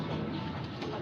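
Racing pigeons coo in a loft, soft low murmuring calls repeating steadily and close by, with no talk over them.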